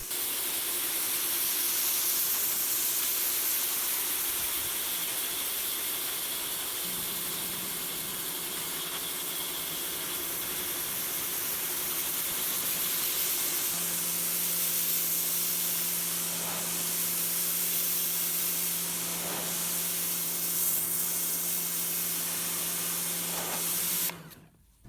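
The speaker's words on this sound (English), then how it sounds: "the aluminium tread plates had to be cleaned, so here's some power washing shots" A pressure washer blasts water across aluminium tread plates in a steady, loud broadband hiss that runs almost unbroken, with the spray tone shifting slightly as the nozzle moves, until it cuts off at the very end.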